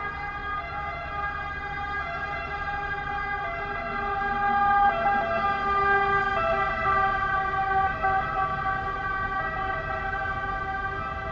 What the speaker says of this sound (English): let's wait for the siren to stop